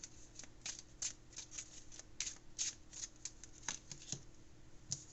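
Moon oracle cards are shuffled by hand, a quick, soft run of riffling flicks and papery slaps repeating in uneven bursts, close and fairly quiet with no voices.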